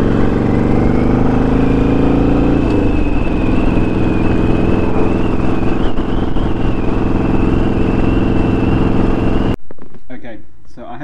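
A motorcycle fitted with Vance & Hines Short Shots staggered exhaust and quiet baffles, running a Fuel Pack 3 tune, rumbles loud and steady under way, engine pitch shifting slightly before the sound cuts off abruptly near the end.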